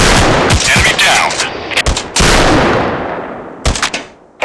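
Loud gunfire in a first-person shooter mobile game comes as rapid automatic bursts and heavy single shots with sharp cracks and echoing decays, close and dense, with brief gaps between volleys.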